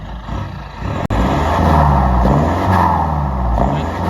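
A steady, rumbling diesel engine of a Hyundai Verna idles with a low drone, a brief click near the start, then holds a continuous hum close by.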